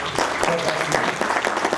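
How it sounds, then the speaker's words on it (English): Audience applause at an inaugural lecture, a steady wash of many hands clapping close and loud, with a speaking voice faintly underneath. "So please let's clap our hands for"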